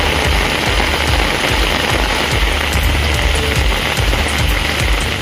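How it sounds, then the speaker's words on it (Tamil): Heavy rain pours down around Tharangambadi in Tamil Nadu, a loud, dense, continuous hiss of drops hammering surfaces, close and unbroken. "பல்வேறு பகுதிகளில் மழை கொட்டி தீர்த்தது"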